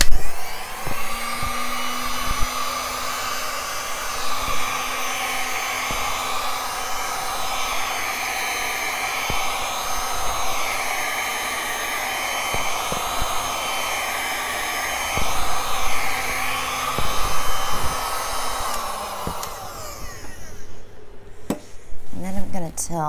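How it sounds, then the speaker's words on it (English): A heat gun blows a loud, steady whir over a Stone Coat resin art piece for about twenty seconds, with clicks and handling noise, then shuts off. "let me just heat that up a little bit. You want to get yourself a good heat gun."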